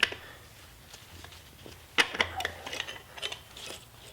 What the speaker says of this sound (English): now I'm taking the proportioning valve off of the newer booster